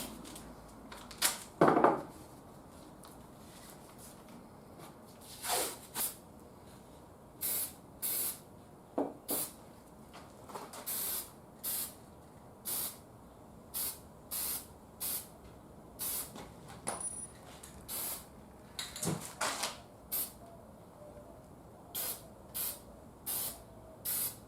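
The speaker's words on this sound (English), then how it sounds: "we're going to spray the whole chassis with clear lacquer" Clear lacquer is sprayed onto a masked 1940s Crosley Fiver radio chassis from an aerosol can, coming as a series of short, crisp hissing bursts separated by pauses, fairly quiet and evenly spaced.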